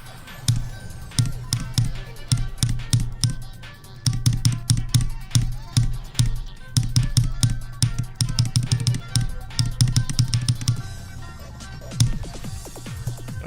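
Rapid, continuous clicking of keys on a computer keyboard used for rhythm gaming, in dense, uneven bursts of taps close to the listener throughout, with a brief slowdown near the end.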